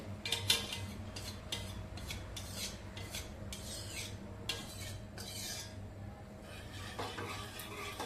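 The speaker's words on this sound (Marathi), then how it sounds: "आता गॅस मध्यम करून एकसारखं चांगलं दूध हलवत राहायचंय आणि आटवून घ्यायचंय" A spoon stirs milk in a pan on medium heat while it reduces for mango malai ice cream, giving repeated scraping strokes against the metal in an even rhythm, close and fairly quiet.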